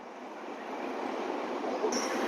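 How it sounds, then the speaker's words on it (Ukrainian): A Ukrzaliznytsia passenger train at Chernivtsi railway station, a steady broadband rumble of rolling wagons with a faint high squeal creeping in near the end, continuous and moderately loud. "потяг Укрзалізниці, який повезе Катрусю і родину до Києва"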